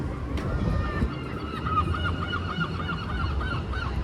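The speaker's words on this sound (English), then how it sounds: "Okay, seagulls are going insane now." Seagulls scavenging around overturned bins in Exmouth give a rapid series of repeated squawking calls that grow more insistent toward the end, with steady outdoor background noise and some wind underneath.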